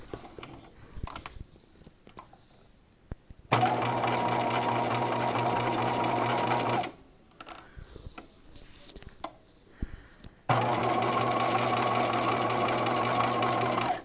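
A sewing machine zigzag-stitches a half-inch seam on illusion net for the Lorelei gown, running in two long, steady, close whirring stretches separated by a quiet pause with light handling clicks.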